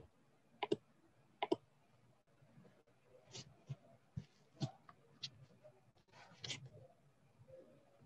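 A faulty computer mouse clicks sharply in quick pairs and single clicks, faint and close, with quiet room noise between.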